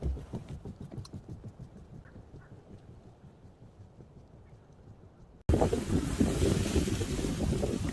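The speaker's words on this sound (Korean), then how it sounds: "바람이 엄청 부네." Strong wind gusts roar across an open mountain trail on Bugaksan, a steady rushing buffet that grows suddenly louder and harsher partway through, with no speech.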